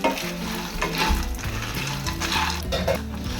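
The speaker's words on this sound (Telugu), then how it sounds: "అదే నెయ్యిలో డ్రై ఫ్రూట్స్, కొబ్బరి ముక్కలు వేగిన తర్వాత వీటిలోనే కొంచెం కిస్మిస్ కూడా వేసుకొని బాగా ఫ్రై చేసుకొని" Dry fruits, coconut pieces and raisins fry in ghee for a sweet, giving a steady close sizzle with stirring clatter and scraping throughout, no voices.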